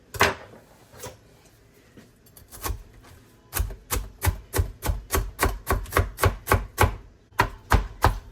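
A knife chops salad vegetables on a cutting board, a few scattered cuts at first, then a rapid, regular run of sharp, close thuds.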